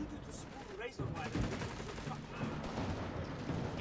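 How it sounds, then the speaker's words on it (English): Gunfire and explosions from the real-time strategy game Company of Heroes 3 in a North African Afrika Korps battle, dense and continuous with bursts of shots and booms over the whole stretch. "Receiving enemy fire!"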